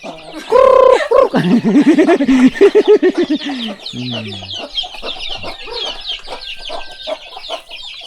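Chickens cluck loudly and close by at a rural farmhouse in southern Laos in the morning, opening with a long drawn-out call followed by a busy run of overlapping clucks.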